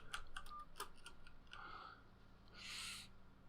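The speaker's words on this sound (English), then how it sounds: "Is that my imagination, or is there more birds about today?" Birds calling in the farming game Family Farm: faint, sparse chirps and clicking calls at the start, then a soft hooting call and a brief airy burst, distant and quiet with no talk.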